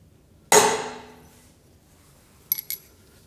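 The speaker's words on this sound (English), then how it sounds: "Now we have a centered center punch mark in the middle of our hole." One sharp metallic hammer strike on a center punch into metal rings out and decays, followed by two faint light taps a moment later.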